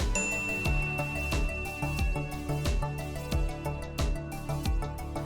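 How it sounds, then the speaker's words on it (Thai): A SURE 2720 portable computerized zigzag sewing machine sounds its automatic fault alert: repeated bright dings in a quick, regular rhythm over a mechanical hum, with no talking. "ระบบเสียงแจ้งเตือนอัตโนมัติ เมื่อเกิดอาการใช้งานผิดปกติ จะมีเสียงแจ้งเตือนขึ้นมาครับ"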